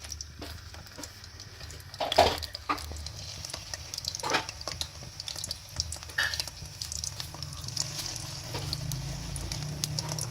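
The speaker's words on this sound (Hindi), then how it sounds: "ये देखें, हम एक एक करके कबाब उसमें डालते जाएंगे।" Malai seekh kebabs go one by one into a hot oiled pan, where they crackle and sizzle steadily under a few louder spits and pops, with a faint low hum behind them.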